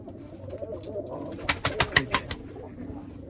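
Pigeons cooing inside a loft, a close burst of about five rhythmic throaty coos over a soft background rustle.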